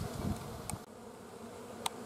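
Honey bees buzzing steadily around a beehive during winter preparation, a dense close drone with brief louder passes, no talk.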